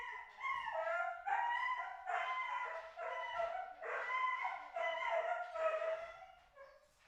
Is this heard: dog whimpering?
yes